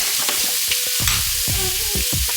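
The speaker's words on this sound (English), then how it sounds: "so the asparagus is being cooked" Asparagus cooking fast in a hot pan, a loud constant sizzle with quick knocks and scrapes of stirring layered over it, close and busy.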